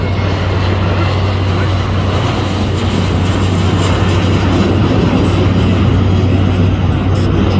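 A steady, loud roar of an airplane passing over Boston Harbor, heard from a boat, fills the whole stretch, with a constant low hum underneath and no clear break.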